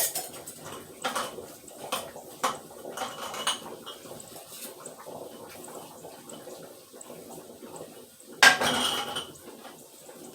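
Metal screw rings clink and scrape against glass canning jars of beef stew in a series of light, intermittent taps, with one louder clatter near the end, close and fairly quiet, no talking.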